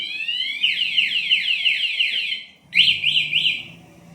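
Electronic alarm chirps from a MSM talking motorcycle alarm on a Yamaha Aerox V2 155 unlocking: a rapid run of rising and falling beeps, a short pause, then a shorter burst of three chirps, loud and close.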